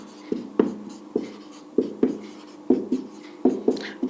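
Math is written on a classroom board in firm, rhythmic strokes, each a sharp tap followed by a short scrape, repeating at a steady pace close by.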